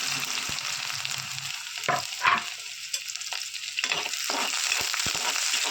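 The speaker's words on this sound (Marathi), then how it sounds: "मस्त सोनेरी कलर येईपर्यंत हलवीत राहायचं" Chopped onion fries with garlic and cumin in a hot pan, a loud continuous sizzle broken by scraping stirs and soft clinks of the spoon.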